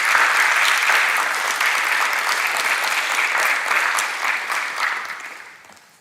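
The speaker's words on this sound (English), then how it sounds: "Let's give them a round of applause as well." Audience applause at a university graduation ceremony for arts and social sciences, a dense, steady wash of many hands clapping close by that holds for several seconds and fades out at the end.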